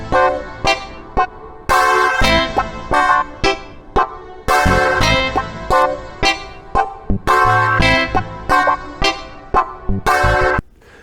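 Rhythm guitar parts of a funk arrangement with no drums or bass, choppy staccato chord stabs in a tight syncopated groove with short gaps, loud and close.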